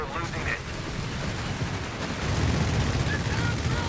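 Aircraft strafing run in Company of Heroes 3, a dense, continuous roar of rapid gunfire and rumbling impacts that swells louder in the second half, with voices talking underneath.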